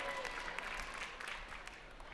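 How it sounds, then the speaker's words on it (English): A live esports crowd at a tournament lower-bracket final applauds and cheers for the player Pain.User of Lazarus Gaming, a steady wash of clapping and voices filling the hall at moderate distance throughout. "give a cheer for Pain.User from Lazarus Gaming"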